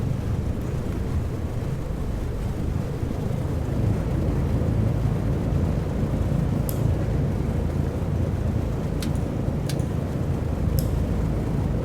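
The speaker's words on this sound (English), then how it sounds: "We're now taxiing back to the terminal." Lockheed L049 Constellation piston airliner in the Prepar3D flight simulator taxiing on the ground, a steady low droning engine rumble with broadband wind-like noise, continuous and fairly loud, with a few faint clicks near the end.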